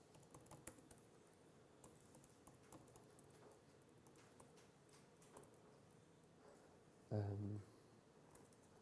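Computer keyboard typing taps along in a soft, irregular patter throughout, punctuated near the end by a brief louder low thump.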